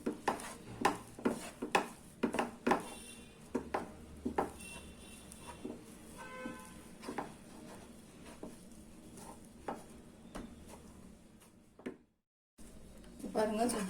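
Moong dal halwa being stirred and mixed in a pan over a medium flame, with repeated clinks and scrapes of a spoon against the metal at an uneven pace while a person talks over it.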